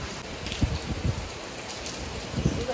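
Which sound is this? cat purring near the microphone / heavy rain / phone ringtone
heavy rain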